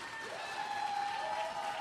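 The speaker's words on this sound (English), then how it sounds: "Can we get even louder for our finalists?" Crowd at a poetry slam cheering for the finalists, with moderately faint clapping under a piercing sustained whistle and drawn-out cheering cries that swell toward the middle.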